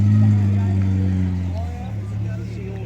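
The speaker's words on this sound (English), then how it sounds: "Here comes the Morris 1000 van here." A Morris 1000 van drives past with a steady low engine drone, loud and close at first and easing slightly as it goes, with voices talking over it.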